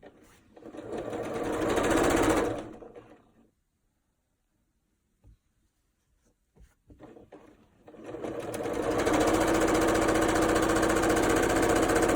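A sewing machine stitches quilt fabric pieces in two loud, steady whirring runs, separated by a quiet pause with a few soft clicks and handling sounds.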